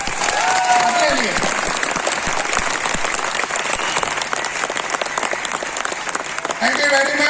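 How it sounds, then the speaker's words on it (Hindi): A large audience gives sustained, loud applause to itself at a gathering, a thick, continuous roar of clapping lasting several seconds, with a speaking voice briefly audible at the start and end. "मैं चाहता हूं अभी तक की सबसे जोरदार तालियां अपने लिए बजाएं आप, अपने लिए।"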